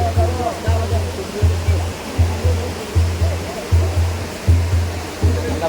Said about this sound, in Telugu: ఇది రావణ వాటర్ ఫాల్. అద్భుతమైనటువంటి జలపాతం కొండల పైనుంచి వస్తుంది.